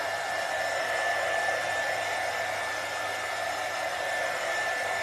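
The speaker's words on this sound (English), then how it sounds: "I just like to hit it with the dryer a little bit longer" Hair dryer blowing steadily on a handmade craft gift for a teacher, a constant close whoosh with a faint whine running unbroken throughout.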